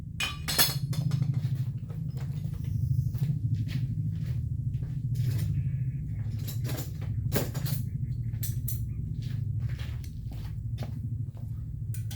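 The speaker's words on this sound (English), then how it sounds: "I'm using pliers on the screw, guys." Pliers working a screw while a dust shield comes off during a 2012 Honda Civic front wheel bearing replacement, giving scattered sharp metallic clicks and clinks over a steady low hum.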